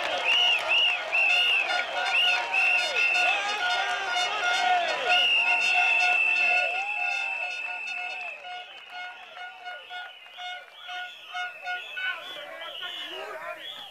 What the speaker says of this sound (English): let's have a loud round of applause for Team WP.